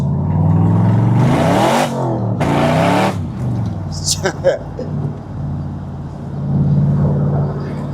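A custom 1963 Chevrolet split-window coupe fitted with a supercharged Corvette engine revs twice, two loud, sharp bursts close by, then settles to a lower rumble while someone talks.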